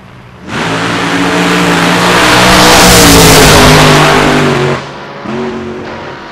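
Nitro drag race car at a hot rod association season finals, its engine roaring up sharply and loud, swelling to a sustained blare, then dropping back before a second shorter burst of throttle.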